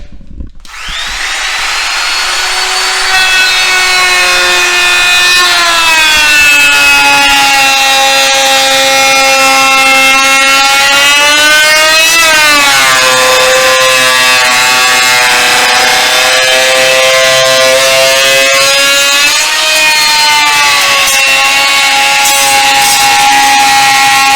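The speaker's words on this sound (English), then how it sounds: "Now route the other side." Electric wood router cutting the edge of a wooden turkey plaque meant as a routed front plate, a loud steady high whine with shifting pitch that runs continuously without pause, no talking.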